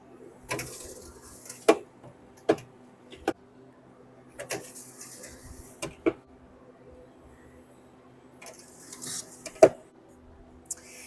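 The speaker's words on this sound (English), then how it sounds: "So I'm going to go ahead and get my trays loaded in." Sharp metallic clanks and taps of trays sliding onto racks, spaced irregularly over a low steady machine hum, close and fairly quiet.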